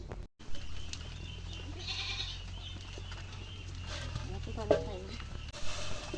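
Goats on a farm give a brief bleat amid faint background noise after being given water, with low rumbling and shuffling sounds around them.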